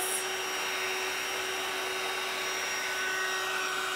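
A hair dryer blowing on paint on a Dollar Tree sled gives a steady, close, unbroken whooshing hum with a constant motor tone throughout.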